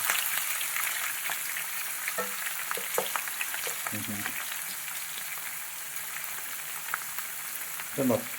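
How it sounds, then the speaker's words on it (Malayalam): Ivy gourd frying in oil gives a steady, continuous sizzle, with a few clicks and clatters of stirring throughout. "നല്ല എണ്ണക്കകത്ത് ഇട്ട് നമ്മുടെ പൊരിച്ചങ്ങോട്ട് എടുക്കണം"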